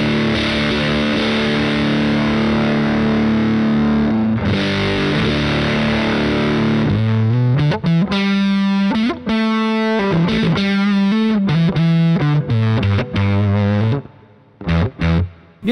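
An electric guitar runs through a fuzz pedal fed by a DIY starve box, first holding a thick, sustained wall of fuzz, then breaking into sputtering, gated chopped notes and bursts that cut in and out, loud and close.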